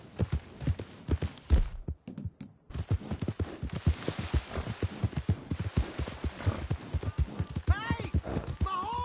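Horse hooves in the Red Dead Redemption 2 video game, a quick rhythmic clip-clop of galloping on a dirt path, steady and close, with a voice shouting briefly near the end.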